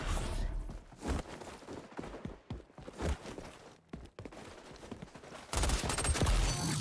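Rapid bursts of gunfire from the video game XDefiant crack in irregular clusters, sharp and close, with brief pauses between volleys and a louder sustained burst near the end.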